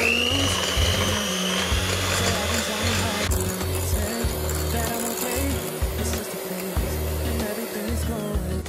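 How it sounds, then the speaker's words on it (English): An electric mixer on high whips heavy cream with sugar, a steady, loud, whining motor drone that runs without a break throughout. "we're going to just mix it up on high for a couple minutes so it's just really thick and creamy"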